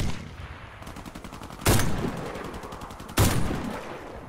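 Two sharp, loud sniper rifle shots ring out in Warface, spaced about a second and a half apart, each ringing briefly before it fades, over a faint stutter of distant automatic fire.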